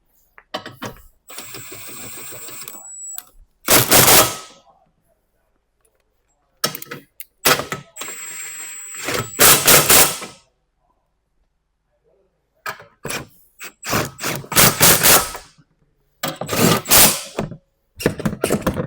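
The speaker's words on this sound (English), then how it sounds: "tighten the rest of the assembly using the 1 1/4 socket" Bolts on the shroud assembly of an SXi floor machine are tightened with a 1 1/4 socket wrench. Separate bursts of loud, close mechanical ratcheting come in clusters, with silent gaps between them.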